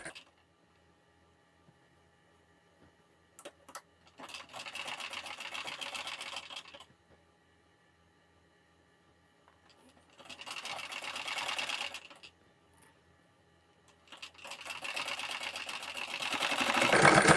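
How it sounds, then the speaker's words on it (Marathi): A sewing machine runs along a blouse neckline in three separate bursts of rapid whirring, close and moderately loud, with quiet gaps between the runs. "गळ्याला शिलाई देत असताना शिलाई ही एकदम समान आली पाहिजे"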